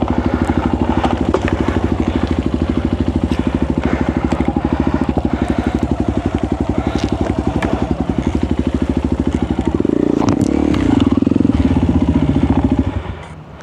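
Motorcycle ridden along the muddy Dimantal Trail after Typhoon Uwan, its engine chugging steadily and close with clattering and thumps from the rough ground, swelling louder near the end before cutting off.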